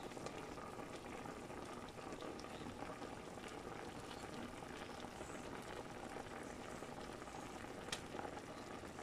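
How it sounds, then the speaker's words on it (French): Goat meat broth bubbling steadily in a large pot, a continuous rolling boil with no talking throughout. "C'est en train de bouillir."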